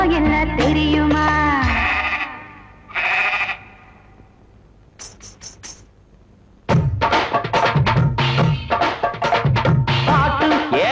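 Several sheep bleat in loud, wavering cries, some overlapping and others spaced apart by brief pauses, set within a film song sequence with music around them.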